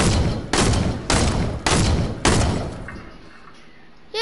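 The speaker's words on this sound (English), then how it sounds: "You're trying to shoot me with dual pistols" Dual pistols fired in a Spider-Man video game, five heavy, evenly spaced blasts roughly half a second apart, loud and close, followed by quiet and a short rising electronic chirp.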